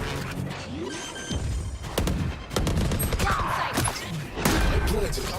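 In a video game, a grenade explosion and gunfire burst out in rapid shots and blasts over steady game noise, with players talking excitedly over it.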